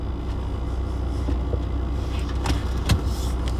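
A Land Rover Discovery 2 TD5 diesel drives along after a starter motor replacement, giving a steady cabin drone of engine and road rumble with a few faint clicks and knocks.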